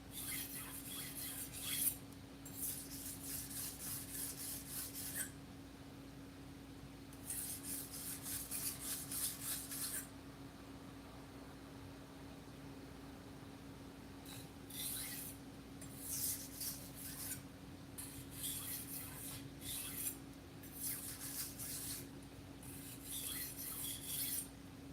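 A Santoku knife drawn across a whetstone in bursts of scraping, rasping strokes, several passes with short pauses between, close and fairly quiet over a steady low hum.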